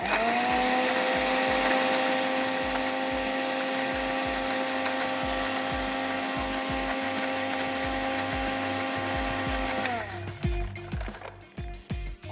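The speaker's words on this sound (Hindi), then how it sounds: "ये जो हमारा सॉस है इसको थोड़ा सा मैं और कर रही हूँ ब्लेंड" An electric blender whirs steadily, blending sauce for Afghani mantu, its loud motor drone holding for about ten seconds before cutting off and leaving a few kitchen clatters.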